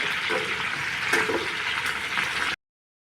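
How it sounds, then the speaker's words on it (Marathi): Strips of bell pepper (capsicum) sizzling in hot oil in a pan, a steady bright hiss with a few faint stirring scrapes, close and moderately quiet, no talking. "छान अशी डाग पडेपर्यंत परतून घ्यायची"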